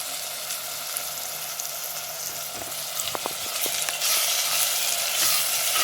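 Fish curry fries in a clay pot after rock salt goes in, giving a steady, fairly loud sizzle with soft stirring clicks near the middle that swells a little louder toward the end.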